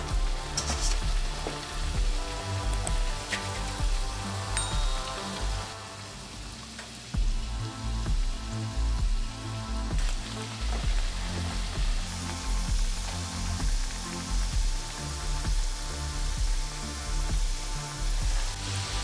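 Jamaican fried dumplings, pinched and rolled dough balls, sizzling in hot oil in a pot, a steady crackling fry that continues for the whole stretch with occasional louder pops and no talking.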